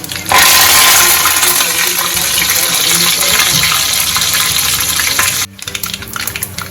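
Curry leaves and sesame seeds hit hot oil with a sudden loud, broad sizzling hiss that holds steady for about five seconds, then drops sharply to a quieter crackle.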